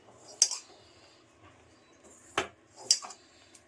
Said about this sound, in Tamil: எல்லாத்தையும் இதில் மிக்ஸ் பண்ணுங்க.